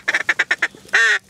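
Drake ducks quacking during a late-season public land duck hunt: a quick run of six short, evenly spaced quacks followed by a longer drawn-out call and one more quack, close and clear with no talk.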